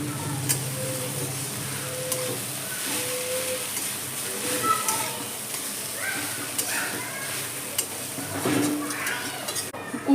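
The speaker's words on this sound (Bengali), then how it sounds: "তেলের মধ্যে কুমড়োটাকে আমি খুব ভালো করে নেড়ে নেব।" Grated pumpkin sizzles in hot oil while being stirred for a stuffed pumpkin paratha, a steady low frying hiss with faint scraping and utensil clicks throughout.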